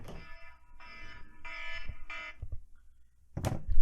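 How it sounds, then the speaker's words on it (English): Fire alarms going off in a building, sounding as a series of loud, harsh electronic tones in repeated bursts with short gaps between them, followed by a louder burst of noise near the end. "Sorry, the alarms are going off."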